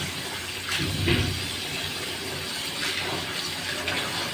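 Running water splashes steadily over jiya fish being washed in a basket, a continuous close wash of flowing water with a few louder surges and no talking.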